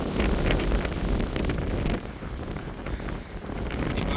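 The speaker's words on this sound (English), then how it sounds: "It's very windy." Strong wind on the coast near St Bees, Lake District, buffets the microphone in a steady, loud rumble with gusty surges, no voices.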